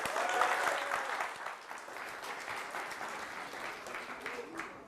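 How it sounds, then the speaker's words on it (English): Audience applause welcoming a speaker onto the stage, a steady rush of many hands clapping heard from a distance, fairly faint and even throughout, with a few voices mixed in. "Can we give him a round of applause?"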